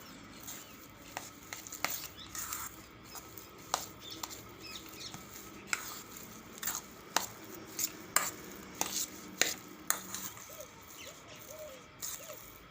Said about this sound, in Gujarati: હવે આપણે બધું મિક્સ કરી લેવું